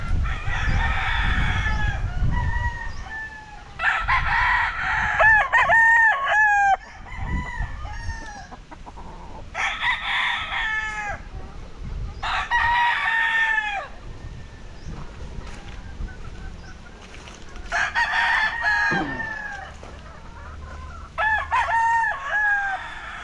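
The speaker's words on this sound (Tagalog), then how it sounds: "Ayan mga manok niya." Chickens and roosters in a backyard farm in San Agustin, Ibaan, Batangas crow repeatedly and loudly, several long calls coming one after another, with clucking and faint background noise between them.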